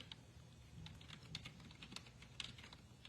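Quiet tapping on a computer keyboard, a quick irregular patter of soft key clicks at close range with no talking.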